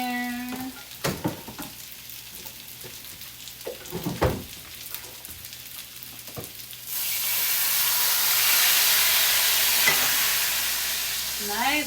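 Refried beans hit a hot pan, first a few clatters and knocks of utensils, then a sudden loud, sustained sizzle that swells and holds to the end.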